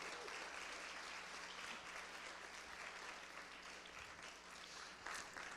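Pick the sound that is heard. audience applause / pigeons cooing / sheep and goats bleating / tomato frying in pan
audience applause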